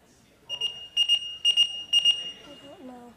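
A mechanical timer rings in three quick paired bursts of shrill, buzzing alarm tones, fairly loud and close, before the ringing stops and a voice briefly follows.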